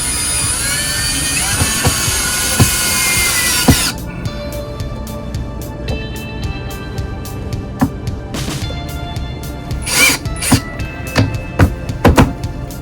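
A power drill drives screws during an RV DIY project, making a steady close whine for a few seconds that stops abruptly, followed by scattered clicks and knocks.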